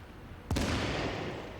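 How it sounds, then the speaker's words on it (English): A single sharp video-game gunshot blast from looters shooting up a store in The Division cracks out, followed by a sustained rumbling roar that fades slowly, with no voices present. "Sounds like they're just shooting the store up."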